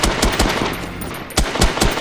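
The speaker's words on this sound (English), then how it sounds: "Oh, AK-47." Bursts of AK-47 rifle fire in the shooter game H-Hour: World's Elite, a run of sharp, loud shots repeating in quick irregular taps with a few spaced-out louder cracks near the end.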